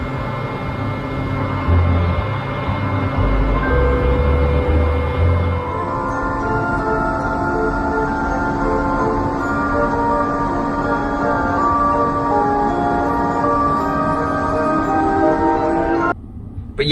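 A Tesla's pedestrian warning system plays its driving sound, a continuous layered synthetic tone with a low rumble that holds steady for most of the stretch and briefly cuts out near the end.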